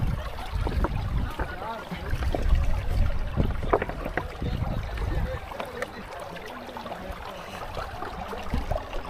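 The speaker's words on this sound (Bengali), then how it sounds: "এই পানির গর্জনটা যে এত ভালো লাগছে" Water rushing over stones at Sada Pathor in Sylhet, a steady broad roar with splashing and trickling detail, close by and fairly loud, while people talk over it.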